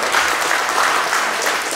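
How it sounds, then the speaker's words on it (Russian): Loud, dense applause from an audience at a martial arts bout, a steady wash of many hands clapping for the winner, with no talk over it. "Аплодисменты"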